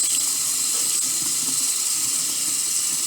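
Tap water running steadily into a bathroom sink, heating up while makeup brushes and beauty blenders are being washed; a continuous close hiss with no talking.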